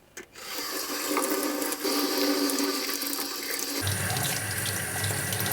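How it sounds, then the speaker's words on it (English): Water rushes steadily through the hose of a Hoover Power Scrub shampooer being rinsed out, with a rubbing, sloshing change partway through; loud and close, no talking. "Now I'm going to want to rinse this entire hose out."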